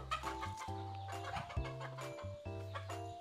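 Chickens cluck and call close by in a farm coop at a contract-raising poultry farm in Tây Ninh, with young yellow pullets among the flock; overlapping clucks and short squawks fill the pen with no one speaking.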